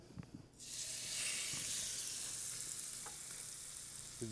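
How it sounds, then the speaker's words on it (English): Bourbon BBQ chicken pieces dropped into a hot pan burst into a loud, steady sizzling hiss of searing, with a few light clinks of utensils, close and without talk. "That's how you know you're hearing that sear. It's not steaming. It's actually searing"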